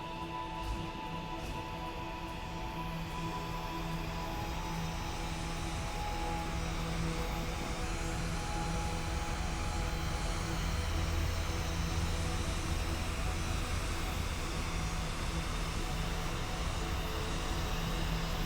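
A jet engine drones steadily throughout a Kerbal Space Program 2 flight, a constant whining hum with faint tonal lines that slowly swells over about eighteen seconds, heard alone without talk.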